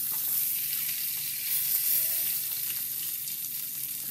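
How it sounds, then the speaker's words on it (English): Steady, loud sizzling of salmon frying in a hot pan, a continuous crackling hiss with faint bubbling throughout. "salmon is almost got that nice sizzle like I need."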